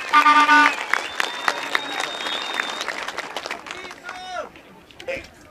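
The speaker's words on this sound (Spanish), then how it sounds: "por favor, compañeros, un aplauso en nombre de la unidad" Applause from compañeros at a union assembly about the suspended Palo Quemado hearing, a dense burst of clapping mixed with crowd noise and voices, loud at first then thinning out.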